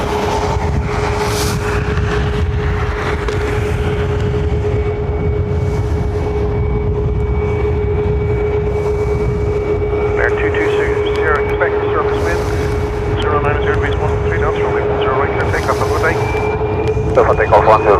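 A Ryanair Boeing 737 MAX jet takes off from runway 10R at Dublin Airport, a loud, steady roar that fills the whole stretch, with a faint rising whine and voices talking over it.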